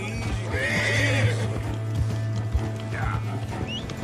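Horse neighing in Red Dead Redemption 2, loud whinnies with trotting hooves and faint mechanical clicks beneath, over a steady low game hum, with no talk.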